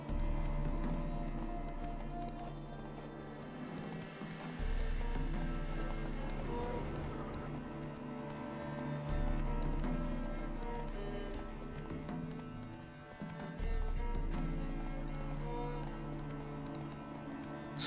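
In The Witcher, a horse's hooves clop in a steady, close walking rhythm, with faint snorting and a sustained musical background throughout.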